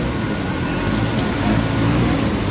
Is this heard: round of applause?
no